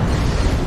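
An exposed fuel tank in Halo Infinite goes off in a loud, dense, roaring explosion that fills the whole short burst with heavy low rumble.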